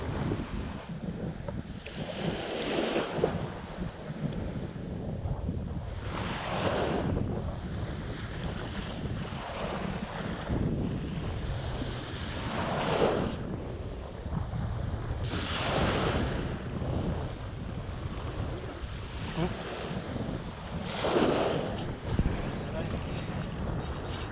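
Steady wind and surf on a Thai shoreline at Bang Saen during coastal squid fishing, with a continuous roar of gusts and breaking waves swelling in repeated surges, wind buffeting the microphone, and voices talking now and then.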